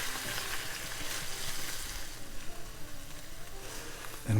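A pot of onions keeps sizzling steadily as white wine goes in to deglaze it for a one-pot French onion rigatoni, a constant bright frying hiss with a brief clatter at the very end.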